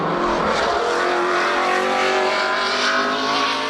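A bright yellow race car on track testing for the Lynch Racing Team roars past in a loud, sustained engine drone that rises and shifts as it passes close by, with no voices.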